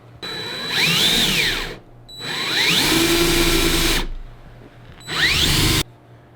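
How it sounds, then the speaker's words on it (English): Three bursts of a power drill whining into a plastic cutting board, drilling mounting holes, rising and falling in pitch, close and loud, separated by brief pauses. "Now I'm going to drill the mounting holes"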